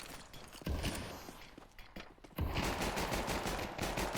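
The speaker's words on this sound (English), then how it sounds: "But now Yuli's hitting all the shots with the P2K" Pistol shots, from a P2000 among others, ring out in a Counter-Strike 2 match. Rapid cracks come in quick bursts, with a dense run of gunfire in the second half and footsteps in between.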